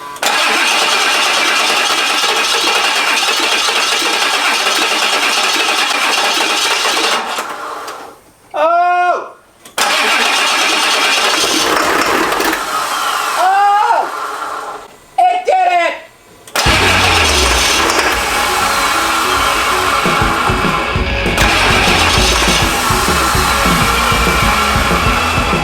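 Rebuilt Ford 7.3 diesel engine in an Econoline 4x4 van starting after sitting without oil pressure: loud, steady running noise with sharp dips where it stumbles and catches, then settles into a continuous idle.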